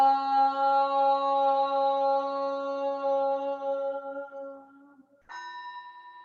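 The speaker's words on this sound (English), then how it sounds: "Here is the after sound of the bell" A bell rings with a long, slowly fading tone, then is struck once more near the end, ringing out clearly with no voices.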